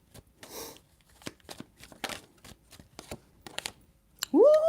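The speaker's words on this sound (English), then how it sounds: "Two more shuffles." A tarot deck is shuffled in short bursts of crisp, papery card snaps and light riffles, close and quiet, before a person starts speaking at the end.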